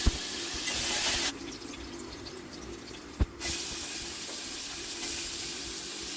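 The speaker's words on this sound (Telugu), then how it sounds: "సో ఒక బాండీ పెట్టుకొని అందులో ఒక 2 టేబుల్ స్పూన్స్ ఆయిల్, జీలకర్ర, ఆవాలు, తర్వాత చిన్నగా కట్ చేసుకున్న పచ్చిమిర్చి, చిన్నగా కట్ చేసుకున్న ఉల్లిపాయలు మొత్తం వేసేసి" Onions and green chillies sizzle in a pan of hot oil with cumin and mustard seeds, a steady, moderately loud hiss with one sharp click partway through.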